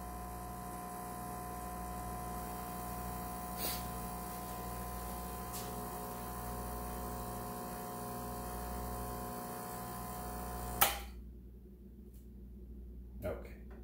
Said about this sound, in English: I'll give it a little more time to make the espresso.